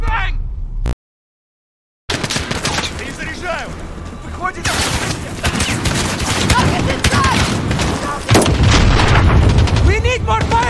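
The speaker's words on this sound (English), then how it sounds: "Flashbang!" A flashbang grenade going off in Call of Duty Modern Warfare, a sharp burst followed by dense battlefield gunfire and booms, with a brief dropout of silence before the chaotic fire resumes and voices shouting over it.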